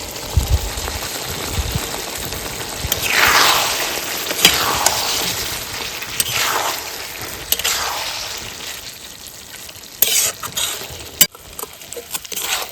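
Green chillies stir-fried with chicken liver and stomach in a pan, a loud continuous sizzle with bursts of spatula scraping and stirring, rising and falling, then a few sharp clanks near the end; no talking.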